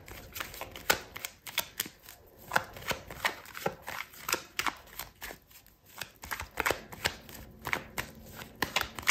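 A tarot deck is shuffled by hand in repeated close, papery riffles and slaps, forming a steady rhythmic pattern of card noise with no talking.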